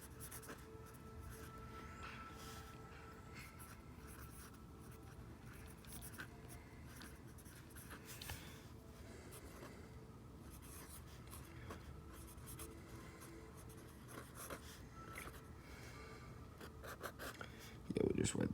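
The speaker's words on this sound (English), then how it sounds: "we'll just write that symbol" Pen or marker scratches and rubs on paper in short strokes while writing a math symbol for square roots, faint and close, mixed with quiet talk and ending in a louder bump.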